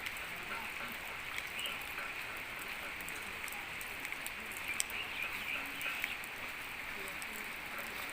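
Rain falls outdoors in a steady, soft wash, with faint frog and bird calls in the background.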